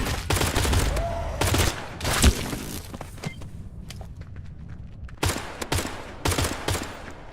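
Gunfire from a wildly inaccurate gun in the game Pioner: loud bursts of close automatic shots come in several volleys, separated by quieter stretches of footsteps and clicks.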